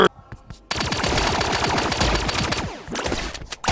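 Rapid gunfire in the Relic Hunters Zero video game, a loud sustained volley of shots after a few scattered bursts, dense and close, with no talk over it.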